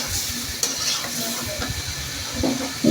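Fish roe sizzling in a pan of spiced masala while being stirred, a steady hiss and crackle with scraping spoon strokes and occasional louder spits near the end.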